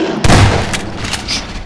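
A shotgun blast in Half-Life 2, one sharp booming shot rising over a steady background of game noise and fading quickly.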